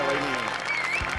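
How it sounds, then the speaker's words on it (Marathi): Audience applause at a Marathi comedy stage show, a short burst of clapping welcoming a guest onto the stage, heard over a faint tonal background. "जोरदार टाळी तिचं स्वागत करूया"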